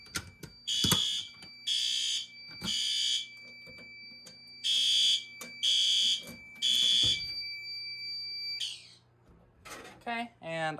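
A building fire alarm system under test sounds in repeated loud electronic bursts, about six evenly spaced tones with short gaps, followed by faint rustling and a few brief chirps near the end.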